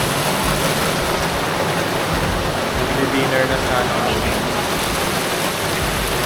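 Steady, dense rain hisses throughout on Boracay Island, with a voice speaking briefly beneath the downpour.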